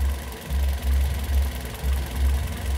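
A car engine idles with only the engine running during a battery and alternator check, a steady low rumble with a regular pulsing throb, close and continuous throughout.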